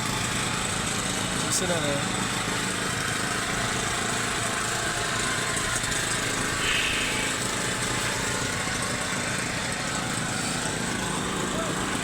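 A concrete vibrator runs continuously on a freshly poured slab during leveling, a steady engine-like drone at moderate distance throughout, with people talking over it.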